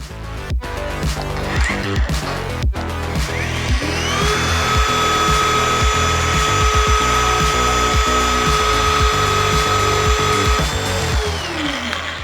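A ROTHENBERGER ROBEND 4000 pipe bending machine bends pipe, its motor and gearbox whining loudly and steadily with a rising and falling tonal pitch, after a few sharp clicks at the start, running close throughout.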